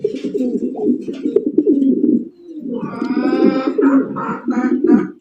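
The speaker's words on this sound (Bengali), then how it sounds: "একটা হলুদ কালার সিরাজি কবুতর পাইতেছেন। ডাক দেখবেন" Yellow Sirazi pigeons coo close by in a continuous, throaty rolling murmur that dips briefly and resumes, with a few sharper overlapping calls toward the end.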